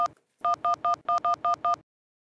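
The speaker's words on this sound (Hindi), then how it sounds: "फोन लगाता हूँ फोन।" Seven crisp telephone keypad tones in a quick, even rhythm, preceded by a short single beep, then silence.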